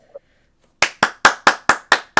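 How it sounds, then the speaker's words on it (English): One person clapping hands: a faint brief knock, a short pause, then seven sharp, loud claps in a steady, evenly spaced rhythm. "Bonk is clapping"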